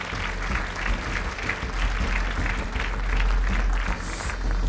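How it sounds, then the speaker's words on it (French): An audience claps loudly at an awards ceremony to honor four prize winners. The applause is dense and continuous, with a steady broadband wash throughout. "On les applaudit très fort tous les 4."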